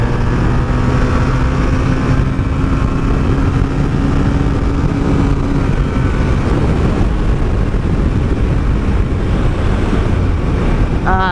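A 1984 Honda Sabre V65 VF1100S motorcycle rides on after a downshift to third, its engine a steady loud drone under heavy wind rush for the whole stretch, with no talk.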